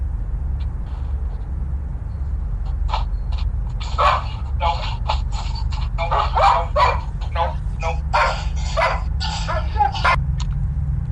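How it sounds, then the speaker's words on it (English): A dog barks and yips in a series of sharp bursts over a steady low hum, with some talking mixed in around the barks. "the dog barking"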